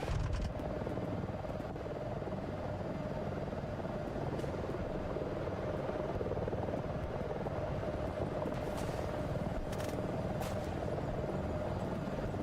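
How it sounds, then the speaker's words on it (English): A helicopter in a multicrew tank combat video game thrums steadily throughout with a continuous rotor drone, loud and constant for the whole stretch, with faint other game noise but no talking. "Look for the chopper that's spawning."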